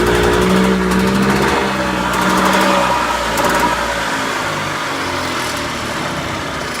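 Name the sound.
golf cart gas engine running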